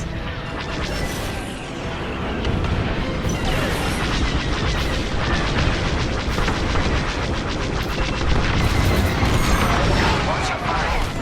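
Starfighter weapons blasting in the space-combat game Star Wars: Squadrons, a loud, dense and unbroken barrage of laser fire and explosions that runs the whole stretch.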